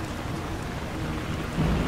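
Steady, dense rainfall hisses continuously in the town of Bree in The Lord of the Rings: War in the North, with a faint low rumble swelling near the end.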